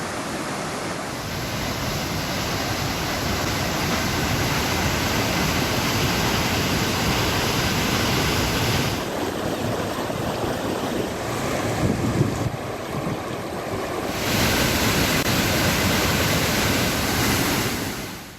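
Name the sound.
water gushing out through dam sluice gates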